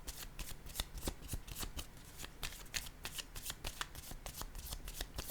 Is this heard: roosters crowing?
no